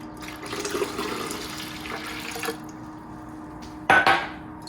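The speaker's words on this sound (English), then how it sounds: "I'm gonna add 6 cups of water" Water pours steadily into a pitcher for a couple of seconds while making strawberry lemonade, then fades, followed by a brief clunk of something being set down nearby.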